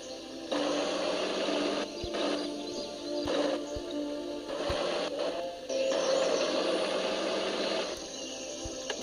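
Tractor engine from a mobile offroad tractor-driving game: a steady, loud mechanical drone that runs throughout, with sharp clicks and ticks at irregular intervals and no talking.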